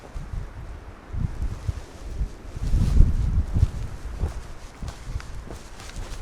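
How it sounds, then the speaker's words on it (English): Strong wind blows outdoors, gusting and rumbling low against the microphone with rustling through trees, along with faint footsteps. "It's very windy out here today."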